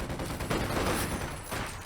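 MP40 submachine gun bursts from Volksgrenadiers in the World War II strategy game Company of Heroes 2, a dense rattling fusillade of overlapping gunfire in a busy battle mix, sustained and fairly loud with no speech.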